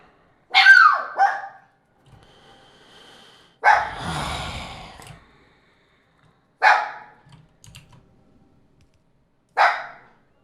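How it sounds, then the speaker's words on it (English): A dog barks in sudden sharp bursts, four separate loud, close yelps and barks spread across the span with silences between them, and a whimpering, growly tail after one. "so of course he has to let out a sudden piercing bark"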